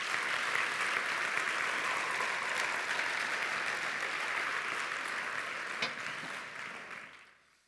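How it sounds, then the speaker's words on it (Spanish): A church congregation applauds steadily during a Spanish-language sermon, a dense, sustained wash of clapping that holds for several seconds before tapering off at the end. "Dele el aplauso al Señor si usted lo puede creer."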